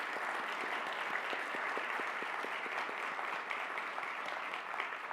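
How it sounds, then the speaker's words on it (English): An audience at a university leadership retreat gives a round of applause for long-serving staff who stand, a dense, even wash of clapping from many hands that holds steady the whole time. "I think these people deserve a round of applause,"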